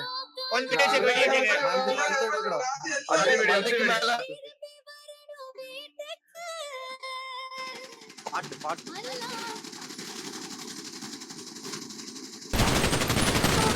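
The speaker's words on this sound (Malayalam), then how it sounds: "എല്ലാരും കണ്ടെടുത്ത് ലാസ്റ്റ് ആയിട്ട് ഒരു വെടി വെച്ചേ" Gunshots ring out as a respect salute at a funeral in a role-play video game. Voices talk over game sounds first, then a sharp burst of gunfire hits loudly at the end.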